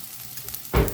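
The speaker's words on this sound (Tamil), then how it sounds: "ஆனியன் போடுறோம், வெங்காயம், ரொம்ப கருவேப்பிலை" Chopped onion and plenty of curry leaves drop into hot oil. A quiet near-silence gives way to a sudden loud, close burst of sizzling in the final moments.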